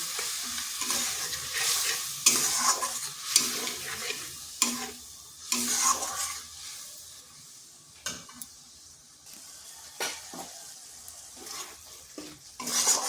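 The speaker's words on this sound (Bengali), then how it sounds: "মশলাটা একটু ভালো করে কষিয়ে নিতে হবে" Spice paste stirred and fried in a wok, sizzling in oil while a spatula scrapes and clacks against the metal in repeated strokes, close and moderately loud, with no speech.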